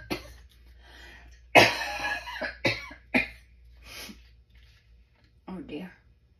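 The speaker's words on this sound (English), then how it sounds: "I am going to start coughing." Several sharp, close coughs burst out in a short cluster, followed by a few quieter throaty sounds and breaths.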